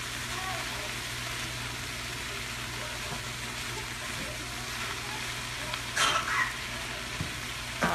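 Seasoned, sweetened food simmers in a pan with a steady, soft bubbling sizzle throughout, close and even, with a brief clatter near the end.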